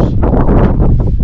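Strong wind buffeting a microphone on a Lake District fell top near High Snockrigg, loud gusty rumble and rustle rising and falling in uneven surges, with no voices.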